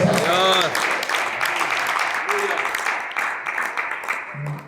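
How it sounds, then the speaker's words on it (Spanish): A church congregation claps loudly for Christ during a sermon, a continuous burst of applause that slowly tapers, with a few voices calling out over it at the start and end. "Denle un aplauso fuerte a Cristo."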